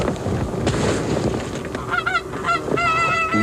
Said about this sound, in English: one goose appears over the horizon and heads for our decoys.